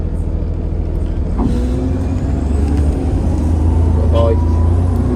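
A National Express West Midlands Platinum double-decker bus from Birmingham Central or Yardley Wood garage drives along with a steady low engine drone and a brief brake hiss, heard from on board.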